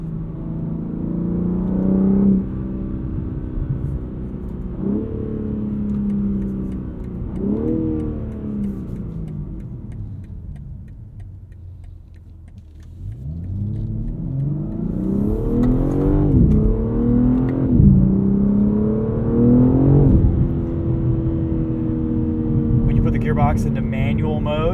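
A 2023 BMW M3 Competition xDrive Edition 50 Jahre engine revs up through the gears, with repeated rising whines and shift breaks, drops almost away mid-clip, then pulls hard again as a driver talks over the noise.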